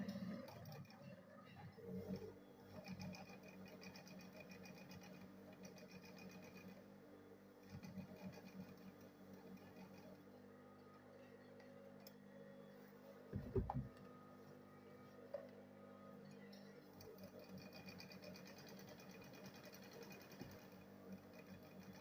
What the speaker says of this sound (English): let me go ahead and sew it together with this leather